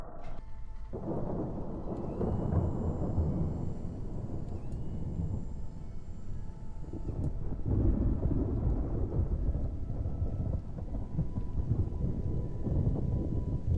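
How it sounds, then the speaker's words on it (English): Steady rain pours down while low thunder rumbles and rolls through, fairly loud and close, with no talking. "it's actually raining right now"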